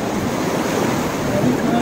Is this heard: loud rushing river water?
yes